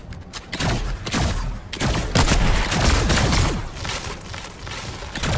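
Pulse rifle firing in a shooter video game: dense, continuous bursts of rapid gunfire with booming impacts, loud and sustained across the whole stretch.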